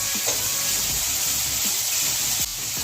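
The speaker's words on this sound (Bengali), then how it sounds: "আবার এই আদাটা দিয়ে ভালো করে ভাজবো।" Ginger and masala fry in a pan for Bengali mutton kosha, a steady bright sizzle of hot oil throughout with occasional clinks and stirring scrapes close by.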